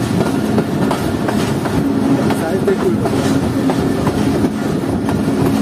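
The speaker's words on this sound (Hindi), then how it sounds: "तो वो हमारी ट्रेन का लोकोमोटिव एंटर हो चुका है लैंसडाउन ब्रिज के अंदर" Jaffer Express locomotive and carriages rolling onto the Lansdowne Bridge on a winter journey: a loud, continuous heavy rumble with rhythmic clickety-clack of wheels on rails, heard from on board with voices faintly mixed in.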